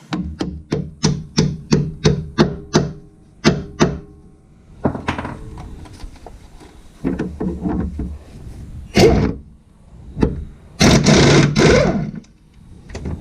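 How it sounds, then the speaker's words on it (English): A hammer strikes a metal ball joint on a 2001 Chevy S10's front suspension in a quick run of sharp, evenly spaced taps, followed by a few heavier, irregular blows with clattering between them. "I'll give it a couple of love taps from the hammer."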